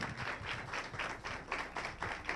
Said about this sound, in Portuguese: Aplausos para o Dom Henrique.